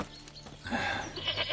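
A goat in The Witcher III bleats over soft game ambience with faint hoof clatter, the call rising in the second half and holding for about a second, fairly close and moderately loud.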